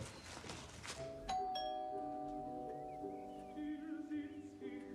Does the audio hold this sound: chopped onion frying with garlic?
no